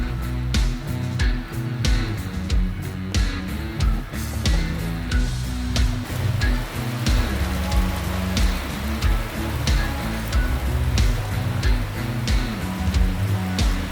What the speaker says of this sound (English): and then the rain started again